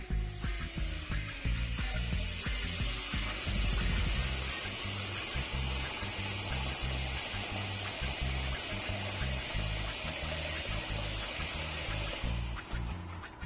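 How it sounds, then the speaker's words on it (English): Cold tap water pours steadily into a pot of raw pig tails, a close, continuous rushing splash that runs unbroken for several seconds with no voices. "And then I'm just gonna add water."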